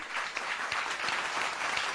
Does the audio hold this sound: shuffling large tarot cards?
no